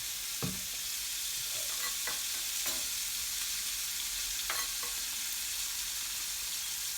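Couscous salad ingredients fry in olive oil in a pan with a steady, even sizzle, close up. A few soft clinks and scrapes come through as the food is flipped and stirred.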